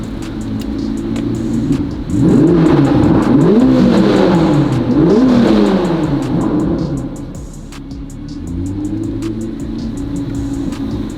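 A Chevrolet C8 Corvette ZR1 sports car engine, built to over 1100 hp, revs up sharply several times, rising and falling in pitch, loud and close, then settles back to a low idle.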